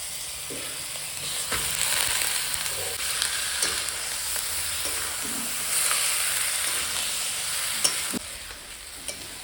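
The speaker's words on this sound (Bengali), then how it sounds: "মশলাটা ভালোভাবে কষানো হয়ে গেছে এখন আমি খাসির মাংসটা দিয়ে দেব" Mutton pieces sizzle steadily in a pan of fried spice masala, a continuous hiss of frying broken by the occasional scrape and knock of stirring, close and fairly loud with no voices.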